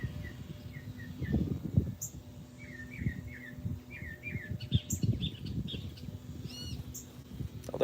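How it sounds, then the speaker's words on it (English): Bird song from a mockingbird outdoors in Texas, a series of short chirps and trills at moderate distance over steady low rumbling background noise, with no voices. "Yeah, it is a mockingbird over there."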